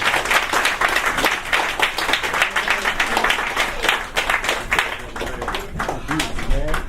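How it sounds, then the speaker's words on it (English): An audience at a spoken-word poetry show claps and cheers after a poem, steady dense applause lasting throughout with a voice faintly audible over the clapping. "let's give my man Sean another big round of applause"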